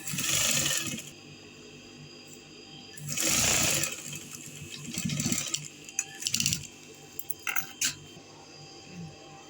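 A sewing machine stitching a star-shaped neckline, running in several loud close bursts of rapid whirring, separated by quieter pauses and short stop-start clicks.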